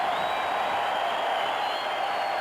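Basketball arena crowd during a 1991 Bulls versus 76ers game, a sustained distant roar of cheering filling the space evenly, with no single voice standing out.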